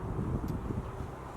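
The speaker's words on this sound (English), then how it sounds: "Sorry about the wind, guys" Outdoor wind buffeting a microphone fills the whole moment with a low, rumbling, steady roar that sits loud and close, with no other sounds standing out.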